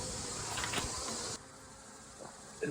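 Honey bees from a small swarm hive buzz steadily and close, a dense continuous hum that drops somewhat in intensity halfway through, with faint handling knocks.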